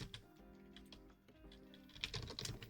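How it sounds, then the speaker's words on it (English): Laptop keyboard typing, a run of quick soft key clicks at moderate level, growing denser and louder toward the end, with faint background tones underneath. "Or at least sometimes people can hear my typing."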